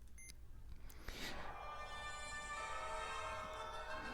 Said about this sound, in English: you'll hear the little beep indicator as well